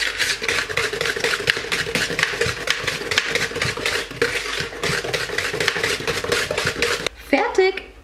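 A utensil stirs batter for an Italian apple cake in a bowl, making quick, rhythmic scraping strokes close up, with a voice briefly speaking over it before a clatter near the end.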